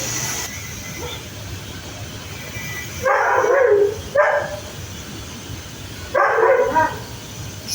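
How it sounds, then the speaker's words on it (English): A caged dog barks in three separate bursts over a steady hiss of heavy rain, loud and fairly close. "The dog is barking."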